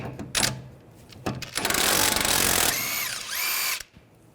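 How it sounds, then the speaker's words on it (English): Power tool driving a 17mm socket to remove a jam nut on the steering rack of a 2011-2017 Nissan Juke, a few short knocks followed by a loud sustained whir that rises and falls in pitch before stopping abruptly, close, no voices. "With a 17mm socket, take the jam nut off."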